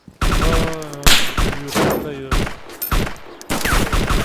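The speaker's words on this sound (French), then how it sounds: "Ouais, c'est moi qui tire." Gunfire in the video game DayZ, a run of loud sharp shots in bursts that carries across the whole stretch, with people talking over it throughout.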